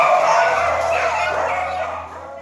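Many beagles bark, yip and whimper together in a crowded, stressful dog breeding mill, a dense, loud and continuous chorus of overlapping canine cries.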